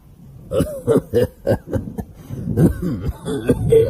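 An old man coughs several times in a staccato run, close and fairly loud, followed by a rougher throaty stretch in a dramatized horror audio story.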